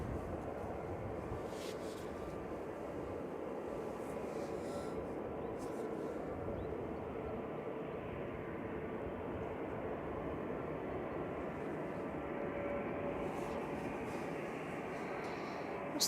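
An Airbus A320neo at Manchester Airport gives off a faint, distant, steady jet rumble that stays level throughout, with a few soft clicks and faint speech in the background.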